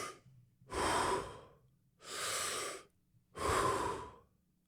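Three deep, rhythmic breaths, each a long full rush of air lasting about a second with short quiet gaps between, close and fairly loud with no talking.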